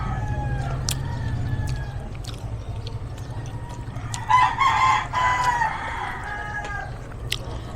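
Rooster crowing and chickens clucking at a backyard poultry farm that also keeps ducks and quail, a steady low hum beneath and a louder stretch of bird calls midway.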